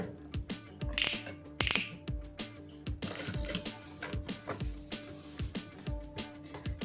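A sewing machine stitching the fall onto a saree, running in a quick, even mechanical patter of needle strokes with a couple of brief louder rattles, close and fairly quiet.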